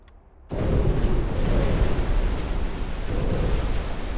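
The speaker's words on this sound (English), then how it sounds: "That was 18 torpedoes and the destruction of the battle cruiser." Torpedo hits on a battle cruiser in Ultimate Admiral Dreadnoughts: a sudden loud blast after a brief quiet, swelling into a sustained, rumbling roar of explosions that keeps going to the end.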